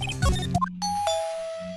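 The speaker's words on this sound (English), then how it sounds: "Ding dong. Bing bong. Oh, someone's at the door." A doorbell rings in the Ace Attorney video game, a clear two-tone electronic ding-dong chime. The second tone is held and rings out alone in a quiet scene.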